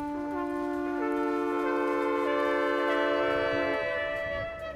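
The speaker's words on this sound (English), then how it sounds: "Each shell plays a different tone of sound, and when played together, sounds like this." Six conch shells in the Fortnite video game sounding together as a sustained, layered chord of horn-like tones, each shell holding a different pitch, with some voices dropping out and changing partway through before all fade together.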